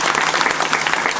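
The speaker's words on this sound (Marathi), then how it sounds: "या ठिकाणी ज्यांनी आत्ताच मृदुंग एवढा सुंदर वाजवला त्या मृदुंगाकरता एकदा जोरात टाळ्या" An audience at a kirtan gathering applauds a mridangam player, giving a short burst of dense, steady clapping from many hands that fills the space without any voices.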